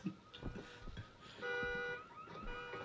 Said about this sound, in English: car alarm's going off.